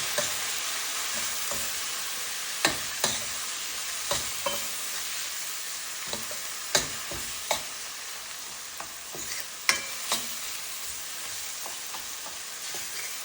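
Tomato with chili powder, turmeric, coriander powder and salt fries for an asparagus and potato curry. A constant hissing sizzle runs under repeated distinct taps and scrapes of a spatula against the pan.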